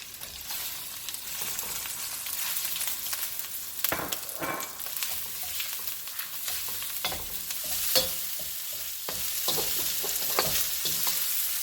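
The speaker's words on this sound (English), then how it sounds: "I'm going to stir fry the meat." Beef stir-fried in a wok over high heat sizzles loudly and steadily, broken by sharp scraping clatters of stirring with no one talking.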